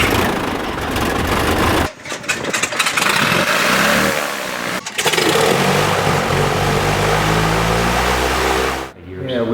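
A propeller airplane engine, apparently at a hangar where a 1990 Beechcraft Bonanza F-33A is parked, cranks and catches, then runs with a loud steady drone and a lumpy low throb that briefly dips twice; a voice calls out early on.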